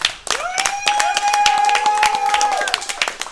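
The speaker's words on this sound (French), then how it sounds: "Une main d'applaudissement, c'est cool, guys?" A crowd at the Overwatch League Season 1 Grand Final esports event in Montreal claps in sharp, separate bursts. A sustained whooping cheer rises over the clapping in the middle.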